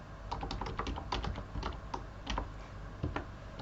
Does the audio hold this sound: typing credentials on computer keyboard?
yes